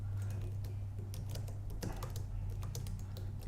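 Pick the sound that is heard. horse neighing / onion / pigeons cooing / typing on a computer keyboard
typing on a computer keyboard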